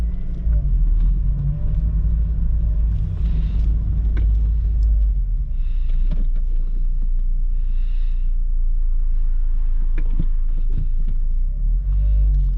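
Acura RSX Type S with its K20Z1 engine and six-speed transmission, heard from inside while driving: a steady, loud low engine rumble with light throbbing, continuous throughout with no talking.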